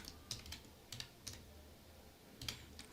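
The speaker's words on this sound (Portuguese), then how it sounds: "Então, eu vou digitar aqui, ó." Someone types on a computer keyboard in quiet, irregular clusters of sharp clicks, one short word at a time, soft and close with no speech.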